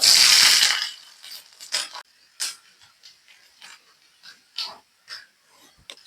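Garlic cloves, chopped small, hit hot coconut oil in a heated pan with a loud initial sizzle that fades into scattered crackles and sputters, with no voices.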